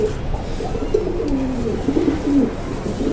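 Pigeons of a Bangladeshi breed coo steadily and close by, with low, rolling calls running through the whole stretch over a faint background hum.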